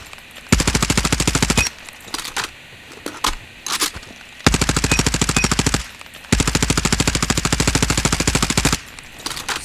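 A CBR4 gun fires in full-auto bursts during ranked video game play: three long, rapid strings of loud, evenly spaced shots with a few short bursts and single shots between them, no talking.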